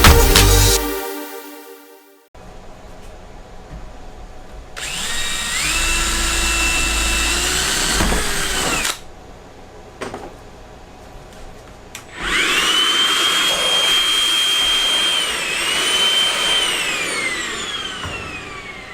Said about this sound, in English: So I'm going to finish drilling my hole here.